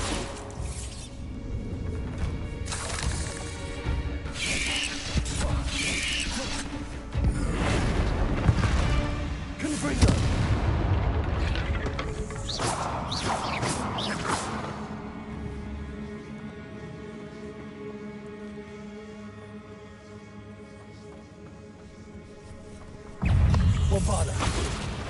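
Bombarda blasting spells cast in Hogwarts Legacy, several heavy booms and crashing impacts over a long stretch of game sound, with spoken incantations among the explosions.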